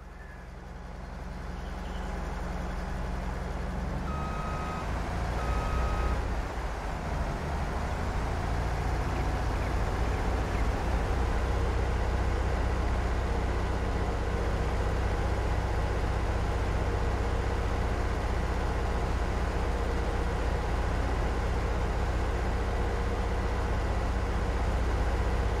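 A farm machine engine in Farming Simulator 22 drones steadily and fairly loud throughout, with a couple of faint, brief beeps early on.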